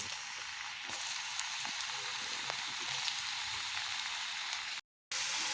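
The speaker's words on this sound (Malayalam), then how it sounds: "ഇനി നമുക്ക് പൊട്ടാറ്റോ സ്ലൈസ് തിളച്ച ഓയിലിലേക്ക് ഇട്ട് കോരിയെടുക്കാം." Potato slices for French fries sizzle in hot oil in a steady, close crackling hiss, with a brief silent gap near the end.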